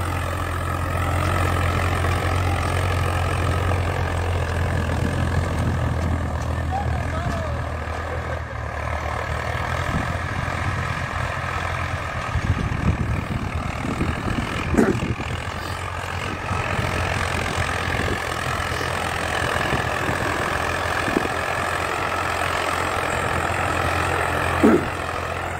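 A Swaraj 855 diesel tractor pulls a harrow through soil, its engine a steady, loud drone throughout with a few brief clunks and knocks from the implement.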